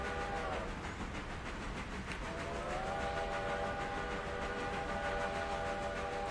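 A steam locomotive in the game Railroader runs with a continuous rolling rumble while its whistle sounds steadily, near and fairly loud.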